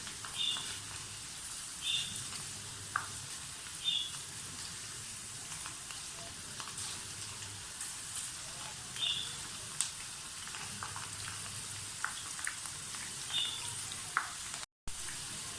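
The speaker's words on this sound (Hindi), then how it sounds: "ताकि अच्छी तरह से चारों तरफ से दाल जो है वो फ्राई हो जाए" Moong dal deep frying in oil in a pan, with a soft, steady sizzle and a few faint clinks from a strainer being stirred through it, recorded fairly quietly with no talking.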